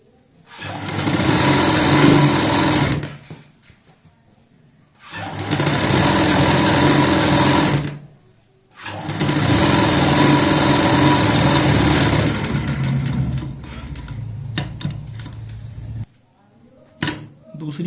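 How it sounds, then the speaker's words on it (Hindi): An electric sewing machine stitches the collar of a child's jacket in three loud close bursts of rapid whirring, separated by short pauses, with brief handling sounds near the end. "अब आगे की साइड सिलाई लगाएंगे।"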